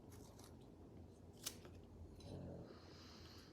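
A single crisp snip of scissors cutting through a flower stem rings out once midway, close and clear over faint room noise and light rustling while blooms are arranged.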